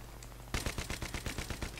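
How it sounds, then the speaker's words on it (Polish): A rapid burst of automatic gunfire in Battlefield 3, about a dozen sharp shots in quick succession, loud and close after a brief quiet start. "Ktoś tu do mnie strzelał."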